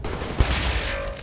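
Gunfire rings out in the shooter game Wolfenstein: The New Order, a rapid burst of loud shots with one sharp blast standing out, packed closely together over a brief stretch.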